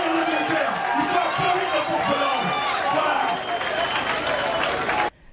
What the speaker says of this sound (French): Il faut applaudir les militaires. Il faut applaudir les forces de l'ordre.